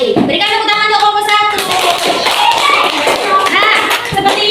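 Schoolchildren clap for a presenting group in a classroom, a brisk patter of many small hands mixed with overlapping children's voices and chatter throughout.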